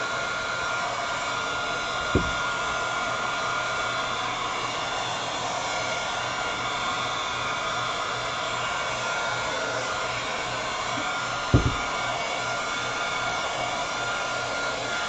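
A hair dryer blows steadily on a thrifted basket, a loud continuous broadband whoosh held at one level throughout with two brief knocks, and no talking.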